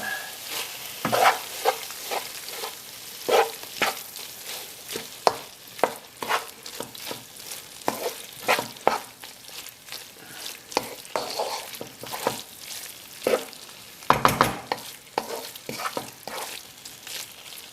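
Paneer curry with chopped coriander and peppers being stirred in a frying pan, repeated scraping strokes of a spoon over a continuous sizzle, close and loud with no talking.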